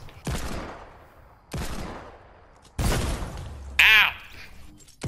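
Plunger guns fire in a Fortnite food fight: three sharp, loud shots spaced about a second apart, each trailing off, then a brief squeaky, whistling burst.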